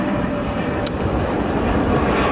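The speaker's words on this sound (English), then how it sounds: "Mitsubishi CRJ 200, but the retro livery" A Mitsubishi CRJ 200 regional jet in retro livery arriving at O'Hare airport, a loud, broad engine roar and rumble heard close by and sustained, with a brief high-pitched squeak partway through.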